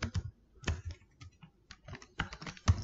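Typing on a computer keyboard while writing Java code, a close, uneven run of crisp key clicks in quick clusters with short pauses.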